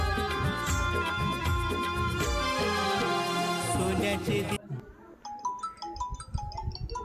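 A phone ringtone plays a repeating electronic melody, loud and close, after a stretch of music cuts off.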